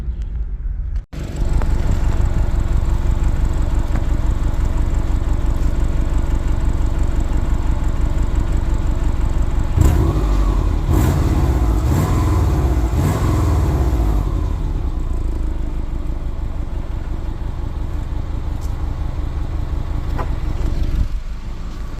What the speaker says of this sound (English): I'm gonna back up outside the garage